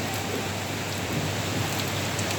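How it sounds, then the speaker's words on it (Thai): Heavy rain with wind during a summer storm pours down in a dense, continuous roar, loud and close, with no voices. "แรงทั้งฝนทั้งลมครับ"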